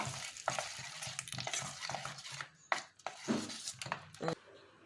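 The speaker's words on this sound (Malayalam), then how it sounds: "വറുത്തെടുക്കാം ഞാൻ വെളിച്ചെണ്ണയിലാണ് കേട്ടോ വറുത്തത്" Nigella seeds sizzle in hot coconut oil in a home village kitchen while a spoon stirs and scrapes the pan in irregular bursts, close and fairly quiet, with faint speech at moments.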